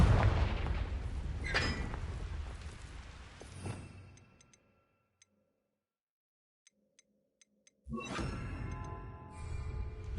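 A Confringo fire spell blasts in Hogwarts Legacy, a loud whooshing burst that decays into near silence with faint scattered ticks, then a second loud blast erupts near the end.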